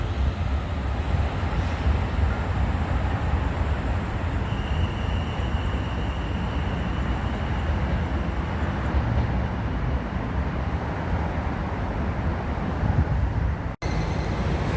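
A steady low rumble of a passing train at Eastleigh station, continuous and fairly loud, with a brief sharp click near the end.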